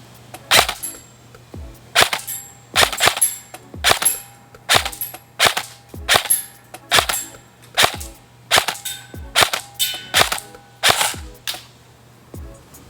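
An airsoft gun firing BBs through an Acetech AC 6000 chronograph, sharp single snapping shots in a steady series of about twenty, close and crisp with brief quiet gaps between them.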